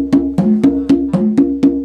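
Steady tumbadora conga rhythm, about eight evenly spaced resonant hand strikes with a clear pitched tone, played alone and up close.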